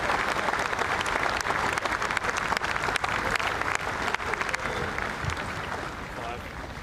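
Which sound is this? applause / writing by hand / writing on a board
applause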